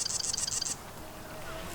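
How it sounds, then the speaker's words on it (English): A marsh wren in a freshwater marsh gives a quick, rattling burst of about seven high, even notes like a tiny machine gun, then falls silent over a soft outdoor hush. "That's a marsh wren"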